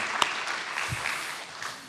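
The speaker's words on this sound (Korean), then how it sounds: "하나님께 영광의 박수를 드리겠습니다." Church congregation giving a round of applause to God during a Sunday worship service, a short burst of many hands clapping together, fairly close and steady, with a faint voice murmuring beneath.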